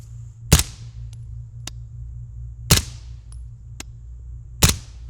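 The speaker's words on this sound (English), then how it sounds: "with the ports in the barrel on the CAR-15 SD, it should be very, very quiet" A suppressed CAR-15 SD rifle with a ported barrel fires Blazer 115 supersonic ammunition, three sharp, muted shots spaced about two seconds apart, close and otherwise quiet, with faint clicks between.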